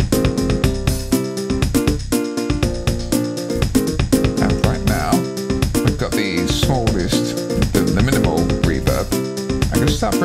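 A Casio SA-76 keyboard plays a free session preset with no reverb, a loud, steady, rhythmic pattern of drum hits and chordal backing that carries on without pause and has no talking over it.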